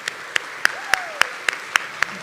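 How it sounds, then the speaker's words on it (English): At a scholarship awards event, sharp isolated claps land at a regular, slow rhythm about once every quarter second, loud and close, with a thin faint tone sliding underneath. "Let's give them a round of applause"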